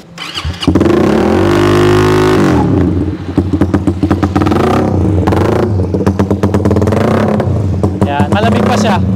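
A Suzuki Raider FI motorcycle fires up loud and close, holds a rough idle, then revs repeatedly in sharp throttle blips, with a brief voice heard over the engine.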